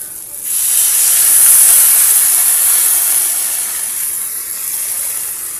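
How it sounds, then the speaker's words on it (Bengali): Water poured into a hot pan of fried potatoes and spices sets off a loud, sudden burst of steam hiss that holds steady for several seconds and slowly fades, with no voices. "তো আমি এবারে জল দিয়ে দেবো।"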